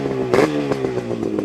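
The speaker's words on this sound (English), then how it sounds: "Listen to the top end. Super tight, no rattling, brand new top end." A 1975 Yamaha RD350 two-stroke, six-speed cafe racer with a brand new top end and original DG exhausts idles close by, its buzzy, pulsing exhaust note steady with a brief throttle blip and rhythmic popping.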